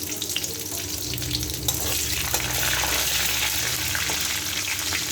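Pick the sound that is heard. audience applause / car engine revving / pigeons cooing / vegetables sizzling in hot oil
vegetables sizzling in hot oil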